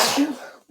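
One short, sharp burst from a person, a sneeze or cough, loud and close, then quickly fading to quiet.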